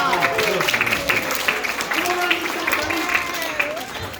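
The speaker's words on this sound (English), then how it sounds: "Give them all a big round of applause" A small audience claps for four volunteers at a supervised science show, steady applause lasting throughout with voices and cheers mixed in underneath.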